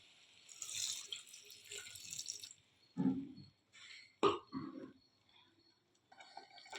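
Water is poured in short bursts into cooking masala for a village-style drumstick curry, a few faint splashes and trickles separated by quiet gaps, close by and soft.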